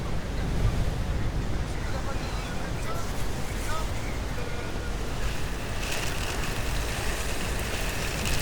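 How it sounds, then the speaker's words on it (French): Stormy sea and strong gusting wind on the shingle seafront at Cayeux-sur-Mer during Storm Ciaran, a dense, steady roar of surf and wind noise buffeting the microphone throughout, loud and close, with no clear voices. "Les vagues ont léché la digue."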